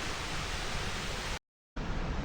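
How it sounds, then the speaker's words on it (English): A steady broad rush of falling water fills the clip, briefly cutting to silence before resuming. "Cracking waterfall."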